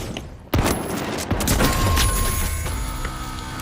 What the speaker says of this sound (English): He's trying to hit me with the low shotgun